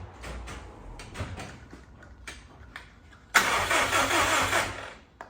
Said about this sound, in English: I've got the starter motor off to free it off, so hopefully now it tries starting